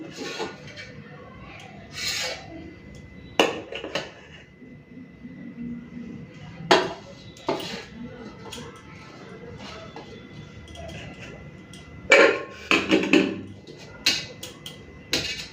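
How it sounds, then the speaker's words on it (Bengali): Cooked rice is served onto a plate in a home kitchen, with scattered scraping and scooping knocks of a utensil against the pot and plate, separated by quiet pauses. "চলুন ভাতটা বেড়ে নিই"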